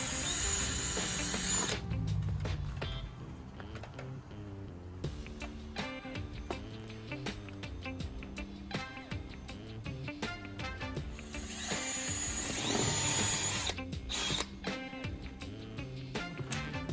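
A power drill bores holes through a retractable screen door frame, whirring in loud, sustained bursts with rattling mechanical clicks and brief pauses between runs, close and without speech.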